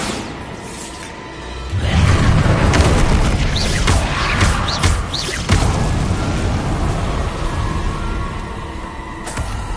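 Bombarda blasting spell explosion in the video game Hogwarts Legacy, a loud rumbling boom with crumbling, shattering debris and whooshing effects that swell after a quiet start and linger as a rough roar.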